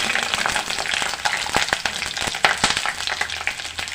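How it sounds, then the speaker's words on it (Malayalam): Garlic sizzles and crackles in a hot pan while being prepared for a squid roast, with steady frying hiss and frequent sharp pops and spatters throughout. "അതിലേക്ക് വെളുത്തുള്ളി ഇട്ട് കൊടുക്കാം"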